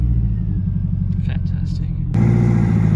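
A 1999 Subaru Impreza WRX engine starts up, a steady low rumble under faint talk that jumps sharply louder and fuller about two seconds in, then holds at a stronger idle.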